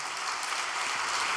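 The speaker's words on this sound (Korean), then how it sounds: "박수 한번 보내주시기 바랍니다." Applause from a church congregation at a special overnight devotional service, a dense, even clatter of many hands clapping that fills the whole short moment without pause.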